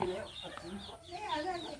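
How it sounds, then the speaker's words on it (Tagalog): Chickens cluck and chatter nearby in a busy, overlapping flurry, with a person talking faintly in the background. "Kaya pinagpala, oh, may mga manok pa."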